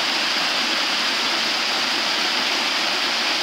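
A woodland waterfall and creek give a constant, close, full rushing roar of flowing water, loud and unbroken, with no voices over it.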